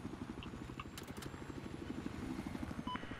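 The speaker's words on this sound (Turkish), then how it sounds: "Base'den heli çıktı arkanda" A helicopter in the Battlefield 4 video game on the Paracel Storm map gives a low, rapid rotor thumping that throbs steadily in the background, faint and distant under the game's other sounds.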